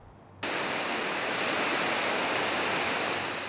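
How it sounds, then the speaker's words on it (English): Heavy rushing water of the Spokane River pouring over Spokane Falls during spring flooding, a loud, steady broadband roar that begins abruptly after a brief quieter moment and holds without pause. "We have a lot of water rushing through Spokane Falls also."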